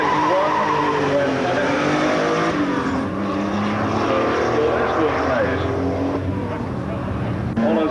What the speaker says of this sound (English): Gordon Hayes comes to the line in his Porsche.